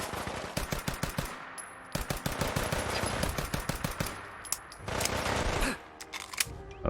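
Weapon fire in Fallout 4 during a fight with a Mr. Gutsy robot, fired without attachments: rapid, loud bursts of automatic shots in several volleys with short pauses between them.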